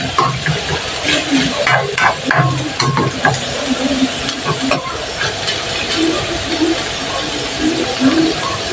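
Bitter gourd (ampalaya) sautés in a pan with a continuous loud sizzle and hiss, broken by occasional stirring scrapes, while faint talk sits in the background.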